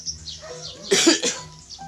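A single short cough stands out close up over a faint background of soft tones and distant chirps.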